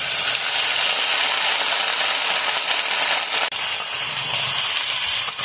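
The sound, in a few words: eggplant pieces added to hot oil, frying and sizzling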